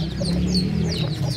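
An Aseel hen and her chicks cluck softly in a low, continuous chatter, with high chick peeps sprinkled over it, close by and without talk.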